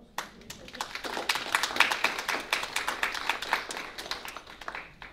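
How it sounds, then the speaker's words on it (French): An audience at an evening law-career event in France applauds with dense, brisk clapping that swells and holds for several seconds, nearby and lively, with no voices on top. "oui on peut les applaudir"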